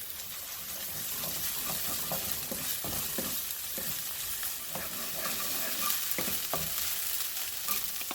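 Minced ginger and garlic sizzle loudly and continuously in a hot pan for a beef and rice noodle stir fry, with frequent clicks and scrapes of stirring throughout.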